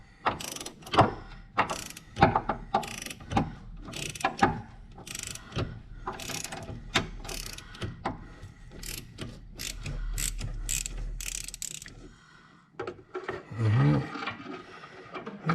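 A 3/8-inch ratchet with socket, swivel and about an 18-inch extension turning a bolt, giving rapid, close clicking bursts in repeated strokes, pausing briefly near the end before a few last clicks, with no talk.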